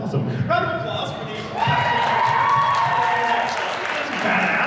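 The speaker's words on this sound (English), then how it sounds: "Round of applause" Audience applause at an anime convention Q&A panel, a crowd clapping and cheering that swells after a moment, with voices and whoops mixed in.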